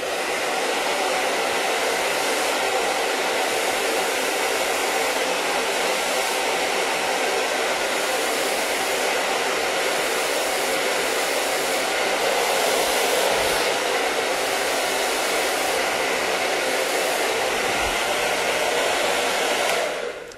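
A hair dryer runs steadily and loud for the whole stretch, blowing hot air onto a thin strand of hair wrapped around a brush while setting curls, with no voices over its continuous broadband whoosh.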